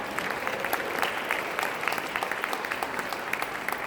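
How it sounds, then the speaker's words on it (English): Steady applause from a crowd at a suffrage centennial celebration, many hands clapping in a dense, continuous patter with no voices over it. "Yes, applause for that."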